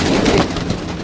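Cooing from a flock of desi pigeons, Sialkoti Piplan type, kept on a rooftop loft in Pakistan: a soft, murmuring low coo with broadband rustle, close and steady through the brief moment, with no talking.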